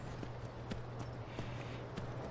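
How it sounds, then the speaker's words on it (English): Horse hooves clip-clopping in modded Skyrim Special Edition, a steady run of evenly spaced hoof strikes over a constant low hum and background ambience, with no talk. "What a fancy horse you have."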